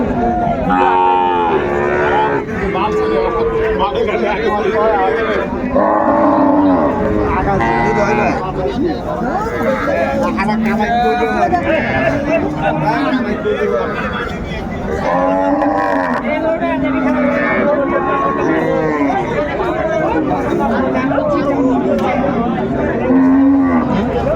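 Cows and calves low repeatedly at a busy cattle market in Bangladesh, loud moos overlapping one another while people talk and chatter throughout.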